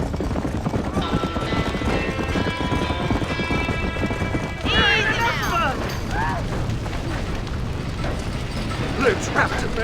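A horse's hooves clip-clop in the Red Dead Redemption game, a steady rhythmic beat under a music score, with a burst of other game sounds midway and a faint voice.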